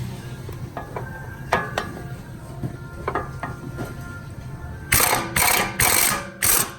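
A ratchet turns a 14 mm starter bolt on a Honda CR-V, with scattered metallic taps at first and then four quick bursts of ratcheting clicks near the end, close and distinct, with no talking.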